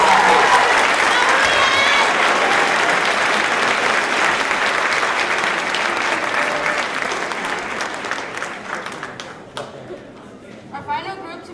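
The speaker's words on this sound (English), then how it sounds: "Please give a round of applause" A crowd at a high school honor roll assembly in a gym-like hall bursts into loud, sustained applause that gradually thins out, with chatter and a voice rising near the end.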